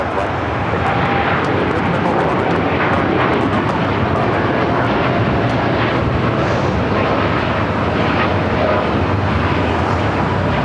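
A large jet airliner roars steadily on a runway at Los Angeles International Airport, a loud, broad, continuous engine rush that holds without a break.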